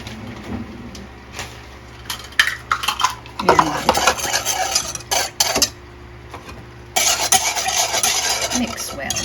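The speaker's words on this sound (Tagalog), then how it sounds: "And mix well" Utensil scraping and clinking inside a bowl as ingredients are stirred and mixed, with irregular bursts of rubbing and tapping that swell into steady, close, fairly loud scraping toward the end.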